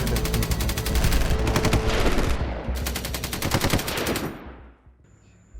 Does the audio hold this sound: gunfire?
yes